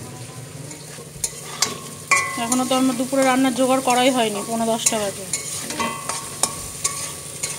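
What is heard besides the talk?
frying momo stuffing in a pan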